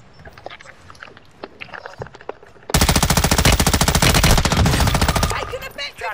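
Call of Duty gunfire erupts in a loud sustained automatic burst of rapid shots lasting a few seconds, preceded by scattered lighter clicks and thuds and followed by fading sporadic sounds.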